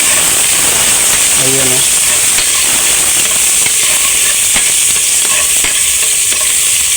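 Tomatoes sautéing in a hot pan, with a steady, close, bright sizzle and hiss that runs the full length. A few soft stirring knocks come through, and a voice speaks briefly early on.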